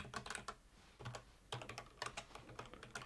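Keyboard typing during a live coding session on the Flarum forum software, with close, rapid key clicks coming in bursts and short pauses, and no voices.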